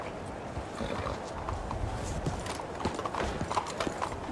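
Horses clip-clop steadily as a group rides out in a video game, hooves beating a dense rhythm with some louder hits toward the end, no voices over it.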